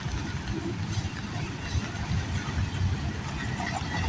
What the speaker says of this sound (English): Caught this train around 10:50 p.m.